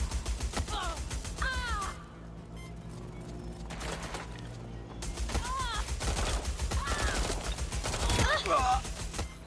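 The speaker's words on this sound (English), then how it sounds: "I'm taking fire!" Watch Dogs Legion on PS4, bursts of in-game gunfire crackle and rattle amid game effects and chirping sounds, fairly close, with voices talking over the action.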